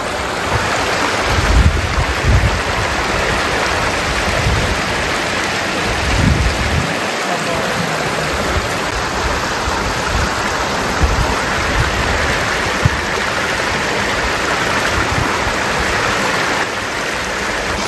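Chinthalthana waterfall at Sircilla roars as a loud, continuous rush of falling water, dense and unbroken throughout, with occasional low rumbles from wind or handling and no voices.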